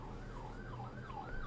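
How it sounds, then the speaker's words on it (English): An alarm siren wails up and down in slow repeating sweeps, steady and moderately distant, with low background rumble and no voices. "Sorry for the alarm siren"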